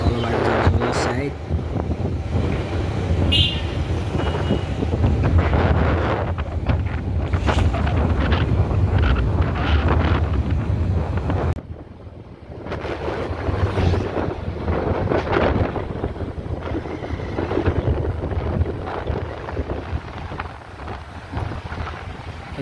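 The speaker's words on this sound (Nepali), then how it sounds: "हावाको आवाज चाहिँ बढी नै आइरह होला होइन।" Strong wind buffets the microphone outdoors in Kathmandu, producing a continuous heavy low rumble and roar that briefly dips midway, with a person talking at points underneath.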